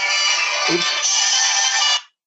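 A cell phone ringtone plays loud and close, a bright, steady electronic melody sustained for about two seconds before cutting off abruptly into silence.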